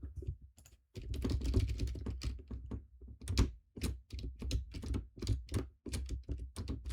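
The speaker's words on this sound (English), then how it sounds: "let me just see if this new keyboard, this other keyboard works" Clattering keystrokes on a computer keyboard, tested during play of a fan-made World's Hardest Shadow level, come in quick irregular bursts with short pauses, close and fairly loud, with no voices.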